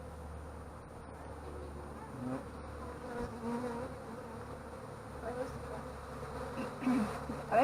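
Honeybees hum continuously during a beehive inspection, a low, steady buzzing swarm close by, with a brief spoken word near the start.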